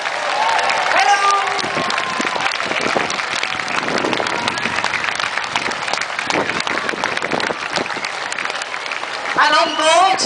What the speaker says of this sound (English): A big cheer, make them feel very welcome.